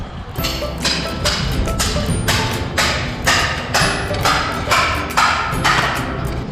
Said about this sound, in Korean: 바닥 피테를 먼저 따고 있어요